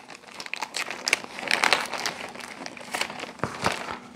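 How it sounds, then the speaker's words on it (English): Scissors cutting open a plastic package, a run of crinkling, crackling plastic with sharp snips and rustles, close and moderately loud, with no talking. "So, let's open this package up."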